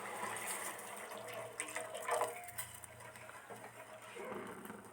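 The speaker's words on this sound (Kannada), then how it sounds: "ಇವಾಗ ನಾನು ಇದಕ್ಕೆ ಹಾಲನ್ನ ಹಾಕೋತೀನಿ." Milk pours into boiling masala tea with a soft, steady liquid splashing and bubbling close by, fairly quiet, with no talking.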